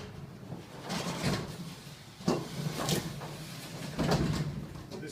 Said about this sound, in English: Now you just want to lift the door and just try it manually to make sure it's still running nice and free.